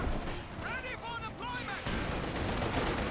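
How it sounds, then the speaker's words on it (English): A Soviet T-34 tank opens fire in the strategy game Company of Heroes 2, its shots landing amid a dense, rumbling battle din with other gunfire and explosions, under a steady background roar. "T-34 is opening fire."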